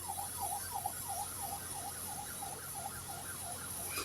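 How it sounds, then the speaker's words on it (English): A Nigerian siren wails, sweeping rapidly up and down in a steady repeating cycle over a constant engine hum, moderately loud and continuous. "Nigerian siren."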